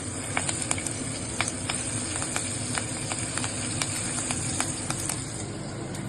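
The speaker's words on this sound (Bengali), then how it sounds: "কাঁচা লঙ্কাটা দিয়ে দিলাম, কাঁচা লঙ্কাটা একটু ভাজা ভাজা হবে।" Green chilli fries in oil in a pan. A low, steady sizzle runs throughout, peppered with quick, scattered pops and crackles at moderate distance.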